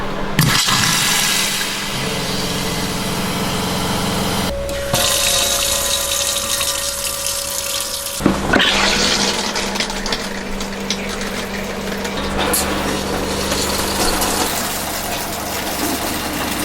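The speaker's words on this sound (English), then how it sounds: "Water pump on." Water pump in a Navion RV runs as water drains through opened faucets during system sanitizing: a steady broadband rush of flowing water with a pump hum, shifting as taps open and close, continuous and close-up.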